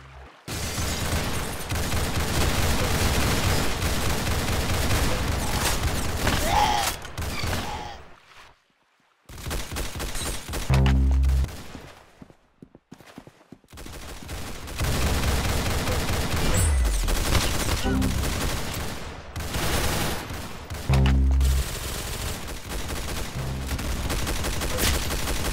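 First-person shooter video game gunfire, loud rapid bursts of automatic shots and heavy booms that keep going with brief quiet gaps between volleys.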